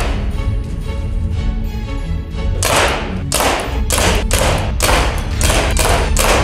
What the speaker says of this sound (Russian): Я буду пробивать все коробки с надписями.